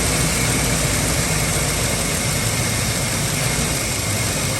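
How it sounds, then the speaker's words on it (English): A Ford F-series truck's 5.4 engine with a seeping exhaust manifold idles steadily and loudly, its rumble uneven as if sputtering; no voices. "It's trying to cut off. Been doing this for some time. It's sputtering."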